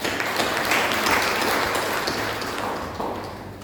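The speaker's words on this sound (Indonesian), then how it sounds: "mari sama-sama kita tepuk tangan untuk kemuliaan nama Tuhan" A church congregation applauds together at a Sunday worship service, steady dense clapping that fills the room and slowly tapers off toward the end, with no talking over it.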